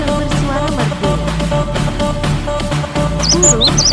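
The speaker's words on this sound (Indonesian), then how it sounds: "Ini dia, burung kecil bersuara merdu." A small songbird sings in short chirps and whistled trills over a dense, loud musical backing, with a few higher bright phrases near the end.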